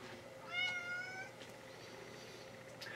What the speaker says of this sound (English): So here's my cat.